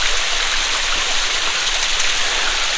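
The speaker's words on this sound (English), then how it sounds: "The water's just running down the rocks." Water running down big cliff rocks on a mountain hike above the Ogden and Riverdale area: a steady, broad, hissing rush of falling water, close and loud, continuous without pauses or talk.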